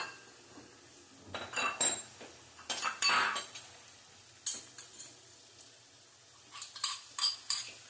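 A spoon clinks and scrapes against a pan while spices and coriander-cumin powder are stirred and roasted, with irregular bursts of metallic scraping and tapping separated by quieter gaps and a faint low sizzle underneath.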